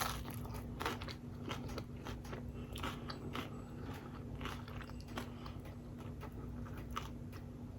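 Crunchy biting and chewing into an egg roll, close up, with repeated crackling bites over a low steady hum; no talking.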